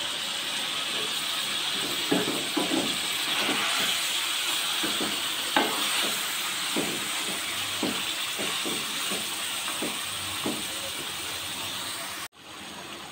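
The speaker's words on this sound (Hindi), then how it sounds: "अच्छे से गोश्त और मसाले को भूनना है।" Meat and spices sauté in a pan for a winter dal gosht, a continuous soft sizzle and hiss with intermittent scraping stirs and clinks of the spoon, close and moderately loud, without talk.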